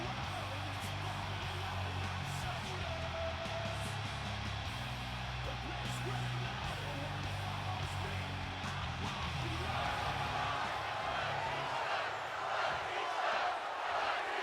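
A wrestling arena crowd roars during a John Cena versus Batista match, a broad, continuous rumble of cheering and yelling with shouts rising out of it, heard under ongoing commentary talk.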